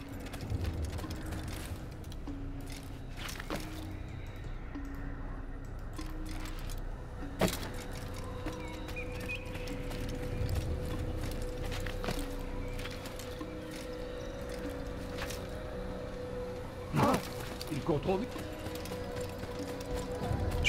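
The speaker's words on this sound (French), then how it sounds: "On va devoir faire un tour à cheval encore." Horse hoofbeats from riding in the Assassin's Creed video game, a steady clip-clop rhythm at moderate level with occasional sharper metallic clinks and mechanism sounds, no talk.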